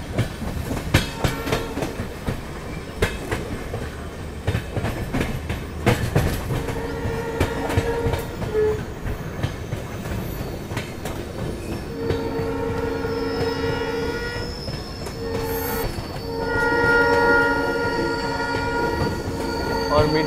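A Jabalpur–Somnath Express runs steadily along metre-gauge track near India's last station, wheels rumbling and clattering with squealing tones and a horn rising over the constant train noise.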